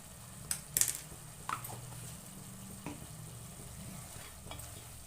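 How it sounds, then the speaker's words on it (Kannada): Spices with turmeric powder fry in a pan for a mushroom gravy, giving a faint, steady sizzle with a few soft stirring scrapes and clicks near the start. "ಅರ್ಶಿನ ಪುಡಿ ಸೇರ್ಕೊಂಡು ಸ್ವಲ್ಪ ಫ್ರೈ ಮಾಡ್ಕೊಳೋಣ"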